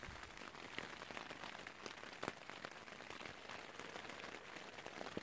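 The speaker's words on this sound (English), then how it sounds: "every time I touch a canoe, it starts to rain" Soft, steady rain patters on a surface, a dense hiss of drops with occasional louder taps, fairly faint and distant.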